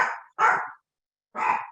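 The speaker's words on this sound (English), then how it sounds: "Family dogs too." A family dog barks three times nearby, loud sharp barks in quick succession with a pause before the third, heard alone in a quiet indoor room.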